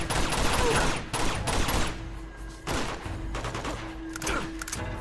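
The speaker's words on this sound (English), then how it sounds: "There's a machine gun over there!" Bursts of automatic gunfire in the video game Uncharted 2: Among Thieves, loud rattling volleys broken by short pauses, with a faint tonal hum between bursts.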